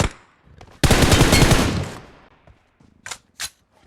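Automatic gunfire in PUBG Mobile: one loud, dense burst lasting about a second, followed by a few short, sharper shots and faint clicks, with no talking.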